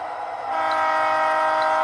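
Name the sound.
model train locomotive passing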